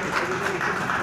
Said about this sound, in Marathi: त्यांच्यासाठी जोरदार टाळ्या एकदा।